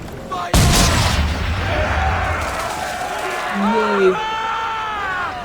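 Old gunpowder barrels blowing up in Assassin's Creed 3, one loud sudden boom followed by a lingering rumble, with voices talking afterward.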